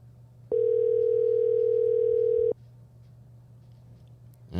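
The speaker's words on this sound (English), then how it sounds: "making you listen to this dial tone for 10 minutes" A telephone dial tone sounds while a call is waited on: a single steady, clean tone that holds for about two seconds over a low hum, then stops.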